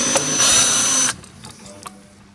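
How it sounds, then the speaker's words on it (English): A small drill bit nicking a little hole, a loud high whirring burst lasting about a second that stops abruptly, followed by faint handling clicks. "we're going to get a little drill bit, and we're just going to do a little nick"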